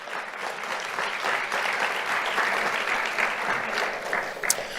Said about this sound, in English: Let's have a round of applause for Lieutenant Smalls.